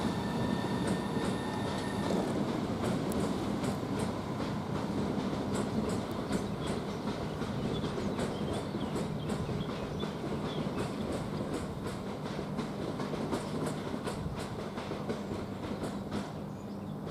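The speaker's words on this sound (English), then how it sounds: "395012, which is the Pride train. Yeah, it is departing at this 12:31," A Class 395 electric train, unit 395012 in Pride livery, pulls out of Ramsgate station with a loud, steady rumble, rhythmic wheel clatter and a faint high whine, heard alone and close by.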